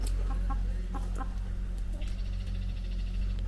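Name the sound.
chickens clucking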